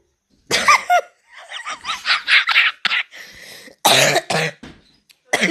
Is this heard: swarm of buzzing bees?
no